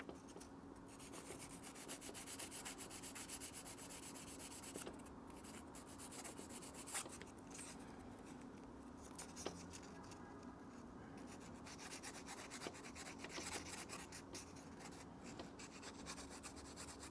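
Steady, quiet rubbing rasp of sandpaper worked by hand over a Pagani Design Moonwatch homage 1701 V2 watch case, continuous and close with small scratchy peaks, no talking.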